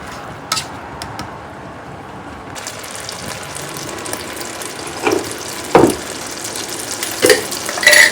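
A mushroom filling of black and chanterelle mushrooms for vegan spring rolls is stir-fried in a pan while its liquid cooks off, giving a close sizzle with scraping stir strokes and louder clatters in the second half.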